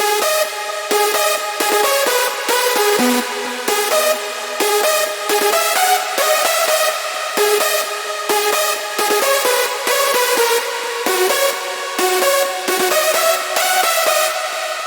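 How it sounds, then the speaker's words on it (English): A big room synth lead plays the second half of its melody with small tweaks, bright chopped chord stabs in steady repeating phrases, loud and alone. "I've did some small tweaks in the melodies and it sounds like this."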